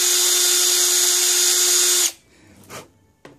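A power drill whines loudly at a steady high pitch for about two seconds as a new bit cuts into metal, then cuts off, followed by a few faint clicks and clatters.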